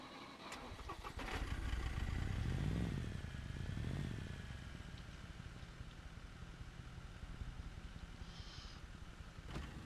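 An all-terrain four-wheeler in the SCUM video game, its engine revving up in a couple of swelling surges that fall back to a steady rumbling idle, then a brief high chirp near the end.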